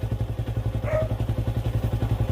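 A Yamaha Sniper 150 motorcycle engine idles steadily up close, its rapid low putter pulsing evenly throughout, with a brief higher whine in the middle.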